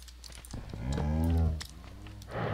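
A cow in Minecraft's FTB Twilight modpack gives one long, drawn-out moo that swells and fades, with a fainter second low call after it and small game noises around it.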